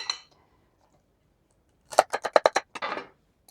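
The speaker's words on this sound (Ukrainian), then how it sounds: "І тепер в баночку я кладу лавровий листочок, одну горошинку духмяного перцю, штучок 5 чорного перцю" Small peppercorns and a bay leaf drop into a glass jar, a quick run of about six bright clinks and ticks close by, followed by a short rattle, with near silence before.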